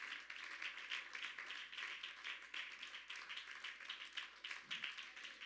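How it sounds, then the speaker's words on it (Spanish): A church congregation claps in praise, a faint but steady, rhythmic patter of many hands heard from a distance, with no one speaking over it. "ese aplauso al Señor Jesús."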